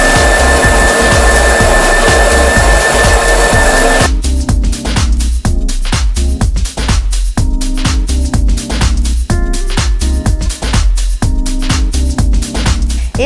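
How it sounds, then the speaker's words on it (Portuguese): A blender liquidizes gluten-free carrot cake batter with sugar, a loud close roar that runs smoothly at first, then pulses in rapid repeated bursts, alone with no speech. "Vamos liquidificar para fazer com que fique totalmente homogêneo após a homogeneização."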